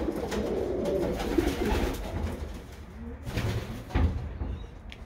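Fancy coloured (non-racing) pigeons coo steadily nearby, soft low calls repeating over a busy background hum of birds.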